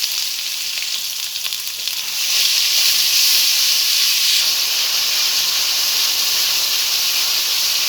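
A ground paste of ginger, garlic, dried chilli, cumin and onion with turmeric and salt fries in hot oil in a pan, a steady close hiss and sizzle that grows louder partway through, with no voices.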